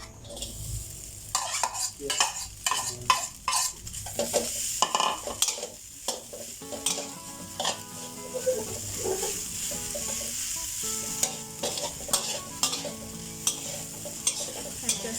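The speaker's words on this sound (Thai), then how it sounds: "เราจะคั่วปลาดุก ที่สับแล้วนะคะ" Chopped catfish stir-fried in a pan sizzles as a utensil scrapes and clatters against the metal in quick irregular strokes, with busy bursts early on and a softer, steadier frying hiss between the later clanks.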